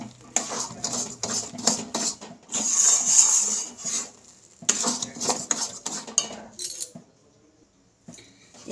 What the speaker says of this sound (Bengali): এভাবে অনবরত নাড়তে থাকবো